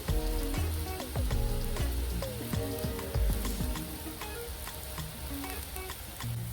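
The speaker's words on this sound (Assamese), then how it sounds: "এইবাৰ মাছকেইটা ইয়াতে দি দিছোঁ, ভাজি ৰখা মাছকেইটা ইয়াতে এইবাৰ দি দিছোঁ" Fried fish pieces go into a simmering curry in a pan, giving a constant close sizzle broken by scraping stirs and light clinks of a spatula against metal.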